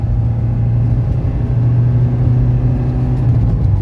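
A 1982 Mercedes 240D diesel car accelerating from standstill toward 60 mph, heard from inside as a steady, loud low engine drone and road rumble with no talking.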